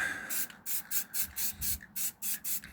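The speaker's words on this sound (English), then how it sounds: "The spray is more firm and you get more paint." Repeated short bursts from a spray paint can hiss in a quick, uneven rhythm, close and fairly loud, with brief pauses between each burst.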